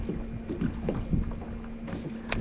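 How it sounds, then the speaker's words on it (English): Steady, rough wind buffeting across an open Arkansas lake while bass fishing, with a low rumble and broadband rush, fairly loud and continuous, with faint water and boat noises mixed in. "Just with the wind too, the wind is rough."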